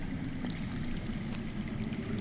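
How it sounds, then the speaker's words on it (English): Steady low rush of flowing water in a continuous murmur, as if running underground or inside a nearby cave, heard faintly and evenly throughout with no voices. "I hear water."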